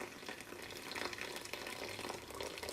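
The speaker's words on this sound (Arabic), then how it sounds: "ثم نضيف إليها مقدار كأس كبير من الماء، بهذا المقدار." A large glass of water, very hot and freshly boiled, is poured over dried herbs and chamomile flowers, making a steady, close, continuous splashing gush with no talking.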